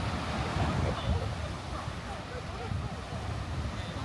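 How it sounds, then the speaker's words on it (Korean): Ocean surf rolling in at Surfy Beach in Yangyang, a steady broadband wash of waves with wind noise buffeting the microphone, loud and continuous throughout. "아까보단 파도가 좀 세졌어요"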